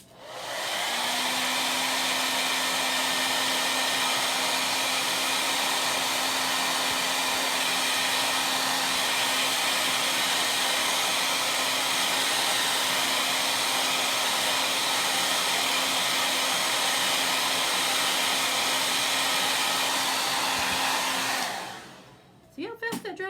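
A hair dryer blowing steadily at close range to dry chalk paste on a pumpkin transfer, a loud constant whirring roar that runs for about twenty seconds before switching off.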